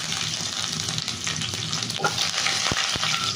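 Urad dal, mustard seeds, two dried chillies and garlic hit hot oil and crackle close and loud, with a constant sizzle and a few sharp pops near the end.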